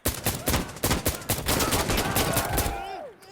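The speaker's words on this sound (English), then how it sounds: "Shoot your Barrett." Rapid gunfire in the video game Insurgency Sandstorm, including a Barrett rifle, with a loud burst of repeated sharp shots, dense layered reports and game effects, ending in a falling whine.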